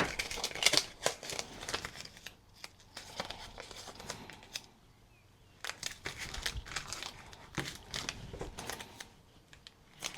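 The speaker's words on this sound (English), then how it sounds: "cover this a little bit up, just using a little bit of packaging tape" Packaging tape crinkles and rips as it is pulled and pressed down while covering part of a paper journal page, bursts of close crackling and tearing separated by short quiet pauses.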